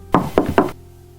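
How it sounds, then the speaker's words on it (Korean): Three firm, evenly spaced knocks on a door, close and loud, followed by a quiet hum, as a horror radio sound effect. "이윽고 누가 문을 두드렸습니다"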